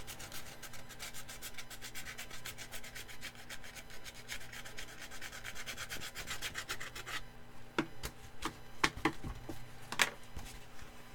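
Sandpaper rubbed over a brush in quick, rhythmic back-and-forth strokes, steady and close, then slowing to a few separate scrapes.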